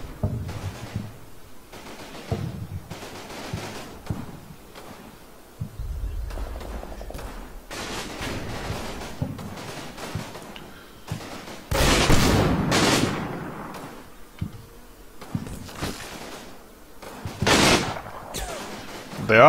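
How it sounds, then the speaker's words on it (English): Machine gun fire in the WWII strategy game Combat Mission Fortress Italy crackles in short repeated bursts. A few louder booms stand out among the quieter distant rattling. "Oh, machine gun."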